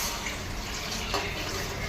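Water poured from a cup into a pot of raw rice that has been fried with onion, coriander and mint for bagara rice, a steady close splashing fill lasting the whole moment with no talk.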